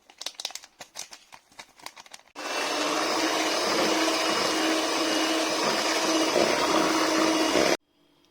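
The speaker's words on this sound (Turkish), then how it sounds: "Çırpmaya devam ediyoruz." An electric mixer whisks cheesecake batter with cornstarch, flour and vanilla, a steady loud whirring drone running for about five seconds after some brief clattering and rustling, then cutting off abruptly.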